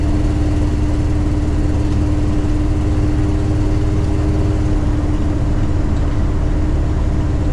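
A Dodge D150 street truck with a Holley EFI 5.9 Magnum V8 and shift-kit transmission drives along, its steady low engine drone and hum continuing throughout from inside the cab with no talk.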